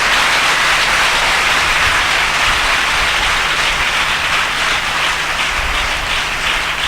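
A church congregation claps hard and continuously, a loud, dense roar of many hands beating together that holds steady and close for several seconds without letting up.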